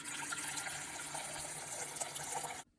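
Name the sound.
water poured into a container with Murphy's oil soap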